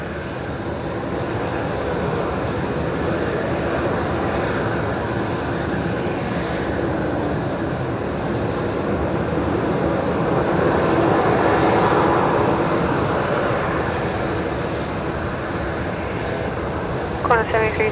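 At Brisbane Airport, Virgin Velocity flight 799 bound for Cairns departs as a steady distant jet engine roar that swells slightly midway, under intermittent talk and radio chatter.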